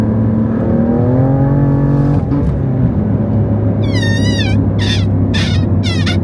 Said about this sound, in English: All right, so I just dropped a gear. I'm gonna do our first little mini pull on E.